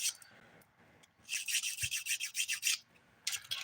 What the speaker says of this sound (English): I just did a dip powder manicure and I'm filing